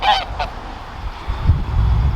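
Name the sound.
geese honking on a farm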